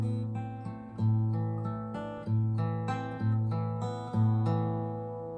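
A tune played on acoustic guitar, plucked notes and chords ringing in a steady pattern with fresh strums about every second, close and clear with no talking.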